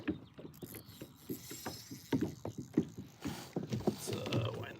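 A fishing reel winds in snagged line aboard a kayak on the Missouri River, giving a quick run of close ratcheting clicks and mechanical whirring against faint outdoor background.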